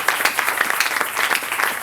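A church congregation applauding, a steady patter of many hands clapping at moderate volume, filling the short moment without talk.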